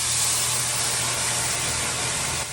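Stock liquid sizzles steadily as it is ladled into pasta cooking in a hot pan, a constant close hiss with no talk over it.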